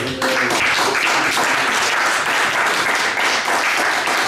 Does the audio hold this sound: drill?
no